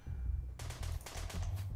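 Rapid gunfire in the video game RimWorld, a quick string of sharp shots and bursts over a steady low drone, moderately loud, with no talking.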